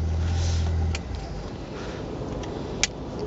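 A 1969 Jaguar E-Type roadster's engine idles loudly and steadily nearby, then shuts off about a second in, leaving a quieter background with a faint sharp click near the end.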